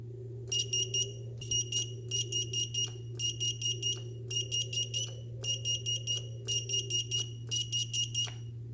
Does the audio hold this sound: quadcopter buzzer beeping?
yes